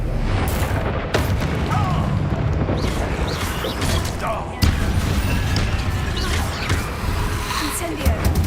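Incendio fire spell cast in Hogwarts Legacy, a battle of loud booms and fiery bursts with a sharp blast midway and shouted spell-casting voices running throughout.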